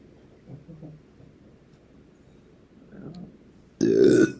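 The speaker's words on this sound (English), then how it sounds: "Confirmation burp." One loud, abrupt burp comes right up close near the end, after a stretch of quiet with some low rustling.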